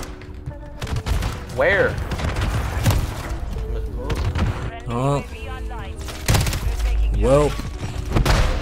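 Gunfire in Call of Duty Modern Warfare, with bursts of shots and thumping impacts under a voice as he talks over the fight, with rising whine-like effects cutting through.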